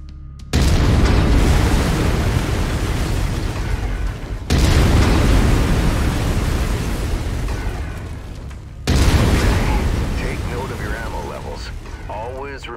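An autocannon fires in the MechWarrior 5: Mercenaries video game: three heavy, booming shots a few seconds apart, each a sharp loud blast that slowly rolls off.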